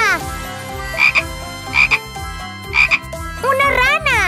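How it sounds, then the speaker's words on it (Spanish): A cartoon frog croaks in a bright, repeated pattern of three or four calls over a bouncy musical backing, loud and close, ending with a rising flourish. "¡Una rana!"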